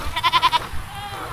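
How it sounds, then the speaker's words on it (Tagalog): Goats on a farm bleat in a quick run of four or five wavering calls, fairly close, followed by quieter farm background. "So yan yung mga kambing na iba"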